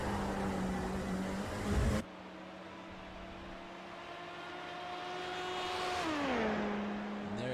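LMP2 prototype race car engine held in sixth gear in the iRacing sim at Le Mans, a steady loud drone with a sharp shift early on and pitch rising then dropping near the end.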